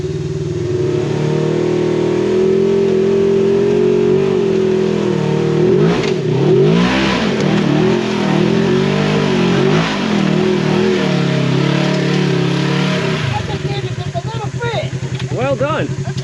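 An off-road UTV engine revs hard during a burnout on a rocky trail, a loud sustained roar with rising and falling revving surges, close by, with people talking over it.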